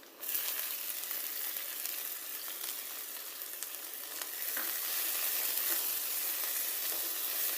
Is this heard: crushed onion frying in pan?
yes